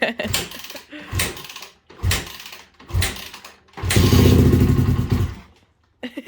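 A Yamaha YZ400 dirt bike engine, cold after sitting unused for years with choke on, kicks and sputters in several short bursts, then catches and runs loudly for about a second and a half before cutting out.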